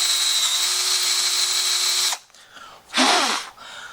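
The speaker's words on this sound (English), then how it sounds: "if you just start going forward, it'll cut the hole very nicely" A power drill with a brad point bit running at low speed, a steady high whine for about two seconds that then stops, followed by a short burst of cutting and grinding as the bit bites into the wood.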